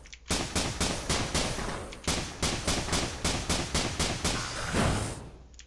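Normal gunshots in the video game Risk of Rain fire in a fast, steady rhythmic volley of sharp, loud bangs, about a dozen shots alone with a brief pause partway through.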